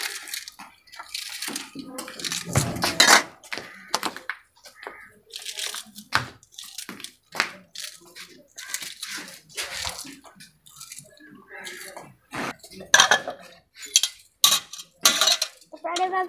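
Tea cups and small dishes are rinsed in plain water without soap, with irregular clinks of ceramic, splashes and sloshing close by, and brief bursts of speech between the sounds.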